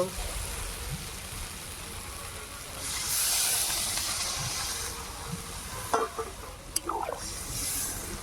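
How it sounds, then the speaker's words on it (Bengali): Water poured into a hot pan of masoor lentil curry with turmeric and potatoes sets off a loud, broad steamy hiss that swells at about three seconds and lasts to the end, with a few short clatters near the close. "এবার পরিমাণ মতো জল দিয়ে দেব"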